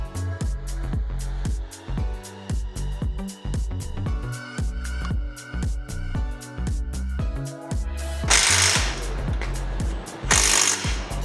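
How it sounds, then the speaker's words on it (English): An impact wrench hammers in rapid bursts while U-bolts are tightened on a Kei truck axle, loud and close with short pauses between runs and two hissing air blasts near the end. "So now we're bolting the U-bolts back up"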